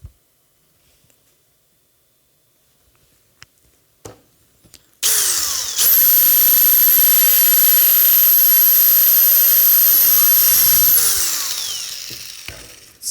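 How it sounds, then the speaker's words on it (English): A power drill with a 3/16 bit bores a hole through a polycarbonate sheet clamped at a table edge. After a few quiet seconds with faint knocks, a loud, steady high whine runs for about six seconds, then winds down. "Okay, we'll go ahead and drill this one hole"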